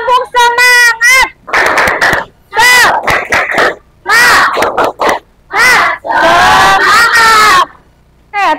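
Students in a classroom perform the 'tepuk semangat' clapping cheer, chanting together in loud rhythmic shouted bursts separated by short pauses.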